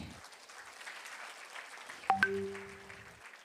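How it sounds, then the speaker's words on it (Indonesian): Faint, scattered clapping from a crowd at an Atomy marketing presentation, joined midway by a couple of bright electronic chime tones that ring on briefly. "Tepuk tangan dulu dong buat Atomi."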